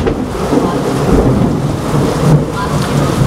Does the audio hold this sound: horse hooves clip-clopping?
no